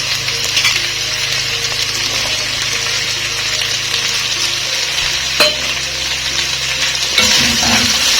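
Kheema stew with peas and potatoes sizzles in a sufuria while being stirred, a continuous close frying hiss with occasional clinks and scrapes of a utensil against the pot, plus a low hum underneath.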